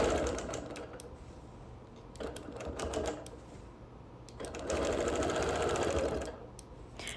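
A sewing machine quilting a sampler quilt runs in steady stitching bursts, starting and stopping three times, its motor whirring with a fast rhythmic needle clatter, close and loud with no talk.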